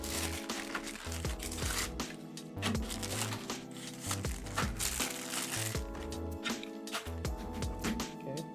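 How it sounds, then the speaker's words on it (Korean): Packaging crinkles and crackles as iPhone 15 Pro dummy phones are unboxed by hand, in busy, near, continuous rustling bursts without speech. "이제 하나씩 개봉을 해보겠습니다."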